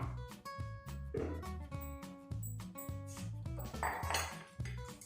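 Spoon scraping and clinking against a metal bowl while boiled potato pieces are mixed into spiced chana chaat, repeated close-up clatters in an uneven stirring rhythm with no talking.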